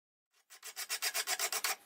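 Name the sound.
sharpening a mild steel chopper blade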